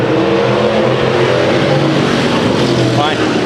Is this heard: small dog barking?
no